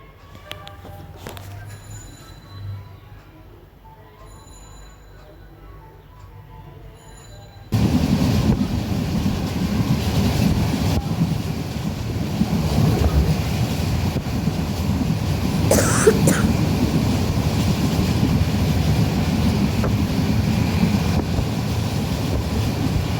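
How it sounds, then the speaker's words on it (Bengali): A fast-moving train on the route to Sylhet, heard from inside: after a quiet start, a loud continuous rumble and rattle of wheels on the rails sets in abruptly and keeps going steadily, with a brief squeal or cough-like sound midway. "ট্রেন চলছে দেখতেই পাচ্ছেন ট্রেন চলছে দ্রুত গতিতে"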